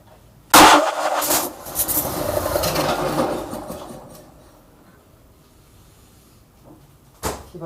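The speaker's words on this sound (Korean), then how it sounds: "이 상태로 시동을 한번 걸어 보겠습니다" A Vanguard 35 hp engine on a road cutter, just refuelled, cranks with a sharp start and runs roughly for a few seconds before dying away, then a short thump follows near the end.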